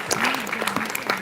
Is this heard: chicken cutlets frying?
no